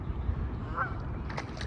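A duck honks once, a short nasal call in a room with a noisy, echoing background and no talk over it.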